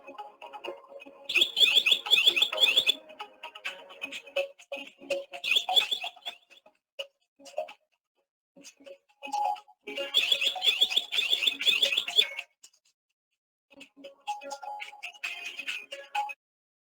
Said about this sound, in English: it's just sounding an alarm